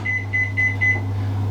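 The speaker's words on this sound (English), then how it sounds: "Gonna want to put that in the microwave" A microwave oven hums steadily up close, with a faint high electronic whine pulsing a few times over the low drone.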